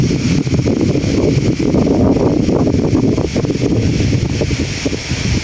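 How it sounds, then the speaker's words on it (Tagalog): Strong wind buffets the microphone in a constant, loud rumbling roar with no letup. "Dito lang talaga yung malakas na hangin"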